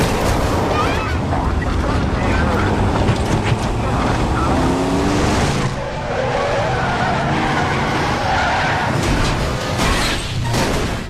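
A car chase in an action film ends in a crash on a bridge, the car rolling over several times: dense, continuous engine roar, skidding tires and sharp impact bursts, loud throughout.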